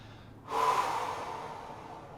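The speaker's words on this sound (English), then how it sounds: "you want to exhale with a nice open mouth and just stay totally relaxed" A relaxed open-mouth exhale in a breathing exercise, one close breathy rush of air that starts abruptly and slowly fades away, heard alone without talk.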